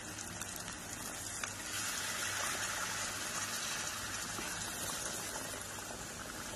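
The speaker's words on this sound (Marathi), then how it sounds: "आता मी हे पाणी आहे ना हे पाणी गरम हे गरम पाण्यात आपण टाकून घेऊ." Hot water is poured into a frying brinjal masala curry in a home kitchen, giving a steady hissing, bubbling gush that swells partway through and continues without talking.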